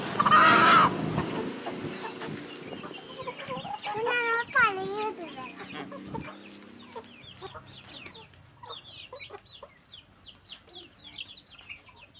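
Chickens cluck and call close by, with one loud squawk at the start and a rapid run of sharp clucks, while being caught and dosed with worm medicine by mouth; soft handling noise sits underneath.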